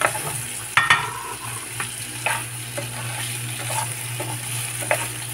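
Chayote (sayote) stir-fried in a pan: a steady, close sizzle runs throughout, broken by scraping and clacking as the pieces are tossed and stirred, with no voices.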